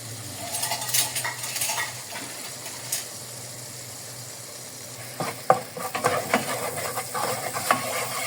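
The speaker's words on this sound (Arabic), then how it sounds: "حطينا معلقه دقيق واحده اهي، وهنبدأ نقلبها" A utensil scrapes and stirs flour into butter and oil for a roux in a pan with a low sizzle underneath, the scraping coming in bursts with quieter stretches between, close by.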